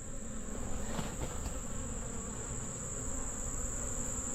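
A honey bee colony buzzes steadily during a hive inspection, a dense, continuous drone of many bees close by with a sustained high whine over it and no talk.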